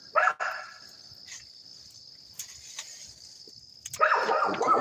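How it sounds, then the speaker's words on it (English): A dog barks in short bursts, one sharp bark near the start and a longer volley at the end, with quiet background between. "right now he's just barking at cats."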